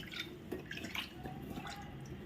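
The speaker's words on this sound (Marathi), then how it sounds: "पाणी घालून घेऊ" Water is poured into a pot of mango kadhi, giving a few soft drips and small splashes over a quiet background, close by.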